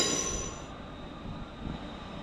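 A Northern Class 350 local electric train rolls past on the line, a brief close rush of wheel and carriage noise with a faint squeal fading into a steady rumble.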